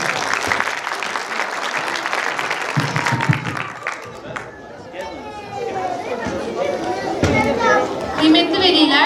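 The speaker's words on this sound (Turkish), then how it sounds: "Bir alkış daha hocamıza alabilir miyiz?" Applause from a crowd at a kindergarten year-end show, mixed with children's chatter and excited voices, the clapping fading into lively background noise of kids.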